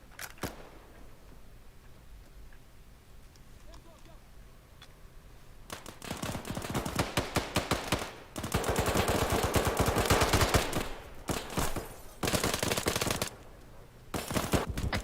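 Bursts of rapid automatic gunfire in the video game Arma 3 erupt after a quiet start, loud repeated volleys with short pauses between them.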